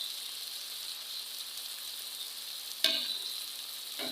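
Spices with chopped ginger and green chilli frying in a pan for bhindi masala, a steady close hiss of sizzling oil that flares with a sharp crackle near the end, with no speech.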